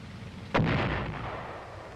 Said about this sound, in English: and immediately squeezes the firing trigger. The missile is guided in flight by the vehicle's guidance and control system